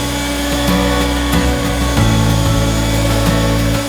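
Dnipro-M DCB-202BC cordless battery blower running steadily outdoors, a loud continuous whine and rushing air, with gravel and a sandy puddle being blown about and faint rough scraping bursts mixed in.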